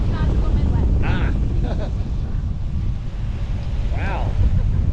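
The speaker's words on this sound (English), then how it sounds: "Definitely windy tonight." Wind roars steadily and loudly across the microphone on the 450 ft Orlando Starflyer swing ride at night in the rain, with a few voices calling out over the constant rushing noise.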